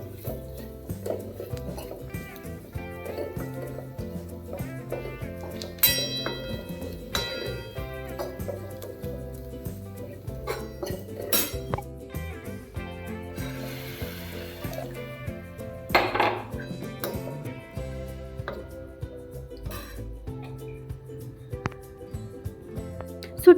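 Dishes, pots and cutlery clink and clatter during a home kitchen cleanup after cooking, with scattered sharp knocks and scrapes at close range over a steady background hum.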